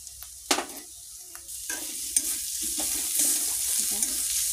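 Salted fish with garlic and turmeric powder fries in a pan, starting with a sharp clatter and then a steady sizzle mixed with repeated stirring scrapes.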